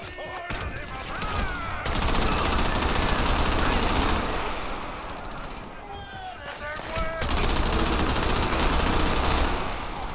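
Rapid automatic gunfire in the Xbox 360 game Crackdown, loud bursts of machine-gun fire that come in two long waves with a short lull between them, with chaotic game noise throughout.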